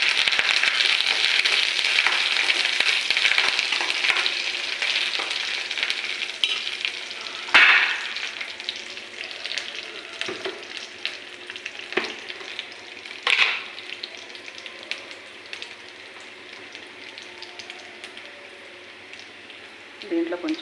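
Chana dal and curry leaves crackle and sizzle loudly in hot oil for a tempering, a dense steady frying hiss with sharp pops and spatters, fading gradually as the sputtering settles.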